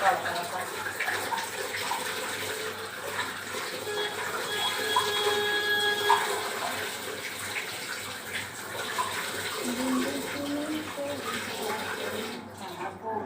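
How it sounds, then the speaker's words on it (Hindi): Vegetables are washed by hand under a running tap at a kitchen sink, making a steady, moderately loud stream of water with splashing that continues throughout. "अभी भी थोड़ी थोड़ी गंदी लग रही है, अच्छी तरह से धोती हूँ।"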